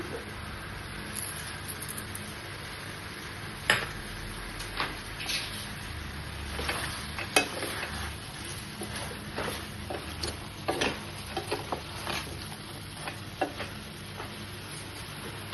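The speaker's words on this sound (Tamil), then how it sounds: "இன்னொரு பட்டரை அதுக்கு மேலே போடுது. போட்டு நல்லா கிண்டி விடணும்" Santhor chicken frying in butter in a pan while being stirred, a steady sizzle with scattered scraping clicks of the spoon against the pan, close and continuous.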